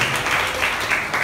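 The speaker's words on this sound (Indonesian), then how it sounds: "Tepuk tangan sekali lagi." A church congregation at an evangelistic worship service gives a short burst of sustained, even applause from many hands.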